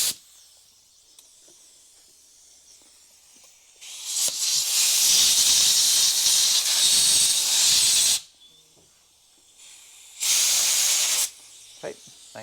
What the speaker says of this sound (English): the last thing to do is just the fuel inlet, a little bit of carb cleaner